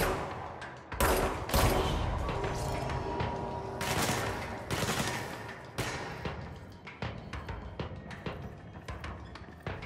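Rapid bursts of gunfire from the video game Control crack out in dense, loud volleys with sharp individual shots and short pauses between clusters.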